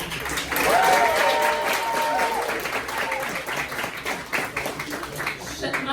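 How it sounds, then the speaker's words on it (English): An audience at a trivia night claps to pick a winner, a steady patter of applause with cheering voices rising early on and loud talk mixed through. "Michelle, why are you clapping?"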